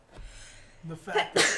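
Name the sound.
sneeze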